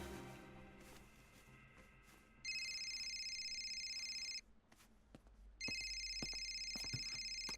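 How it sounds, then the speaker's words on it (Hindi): A telephone rings indoors with two long electronic trills separated by a short pause, standing out clearly over a quiet room. "किसका फोन है?"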